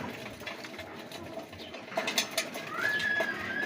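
Pigeons in a backyard loft coo and stir softly, with faint wing and body movements and a brief higher call near the end, set against a quiet outdoor background.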